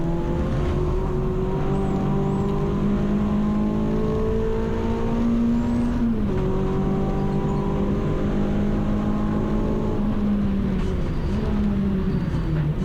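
A Renault Clio race car on a Snetterton trackday, heard from inside a racing Renault as the Clio goes past, a loud continuous engine drone with shifting pitch and gear changes, several rises and drops throughout.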